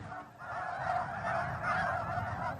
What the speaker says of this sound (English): Every fall, the marshland is overwhelmed with life as hundreds of thousands of geese, ducks, and cranes stop to rest and feed.